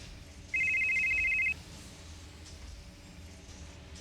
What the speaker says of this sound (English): So I'll dial Flounder.